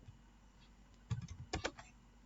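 Typing on a computer keyboard while building an Excel macro: quiet background, then a few short bursts of close key clicks in two brief clusters.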